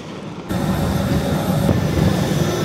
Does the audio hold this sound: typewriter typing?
no